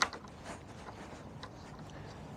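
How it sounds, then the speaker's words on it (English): Screws being undone on a 1983 Honda Stream scooter, a faint close ratcheting and clicking of a tool in short bursts after a brief initial knock, quiet and without talk. "I'm going to release these screws here"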